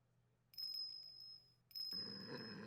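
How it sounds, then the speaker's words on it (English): Tinkling of a bell on a dog's collar in a video game, two bright ringing chimes, the first sustained about a second and the second starting just after, close and clear over a quiet background with a soft rumble at the end. "And is that a bell around its neck?"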